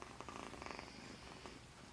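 A kitten purrs close by, soft and continuous, in a steady rhythmic rumble with no talking.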